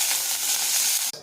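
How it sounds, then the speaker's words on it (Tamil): Mustard seeds, urad dal, fenugreek, dried chili and curry leaves sizzle in hot oil for a tempering, a loud, steady close-up frying hiss that stops abruptly near the end. "எண்ணெய் சூடாயிடுச்சு. கடுகு உளுந்தம்பருப்பு கொஞ்சம், வெந்தயம் கொஞ்சம் போட்டுக்கிறேன்."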